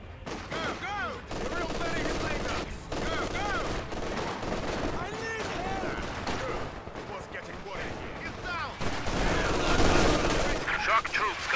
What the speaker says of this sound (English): Machine guns, Commander!